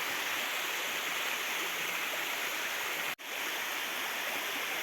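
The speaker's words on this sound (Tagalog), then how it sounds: "Dito na kami sa maliit na talon." A small waterfall on a mountain rushes in a steady, dense hiss of falling water, close and constant, broken only by one momentary dropout, with no voices.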